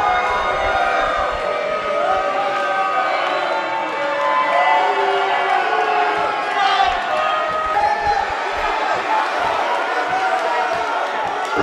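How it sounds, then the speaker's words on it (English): Wrestling fans at a N.E.W. Brawl event cheer and roar steadily as a dense, continuous crowd wash, with scattered claps and thumps, awaiting the next wrestler's entrance. "These fans showing their appreciation for Graves as they await the student of Sabu."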